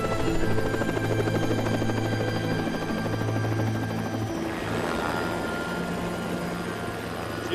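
A helicopter flies steadily throughout, its rotor thump and turbine whine loud and constant, with no other sounds on top.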